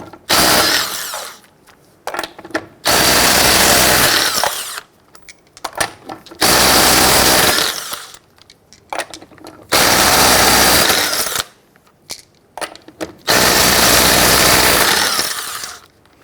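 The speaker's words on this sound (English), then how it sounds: "Using your 19mm socket, loosen and remove your lug nuts." Pneumatic impact wrench spinning lug nuts off a rear wheel of a 1999-2004 Jeep Grand Cherokee with a 19mm socket, in four loud sustained rattling bursts separated by short pauses and lighter clicks.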